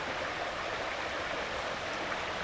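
Buckhorn Creek flowing beneath a footbridge in the Blue Ridge woods of western North Carolina, a soft, steady wash of running water, continuous and fairly quiet.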